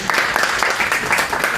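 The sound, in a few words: audience applauding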